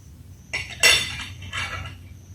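A knife scrapes and clinks against a plate in a few short strokes while cutting cooked fajita chicken breast, close and fairly quiet, with no talking.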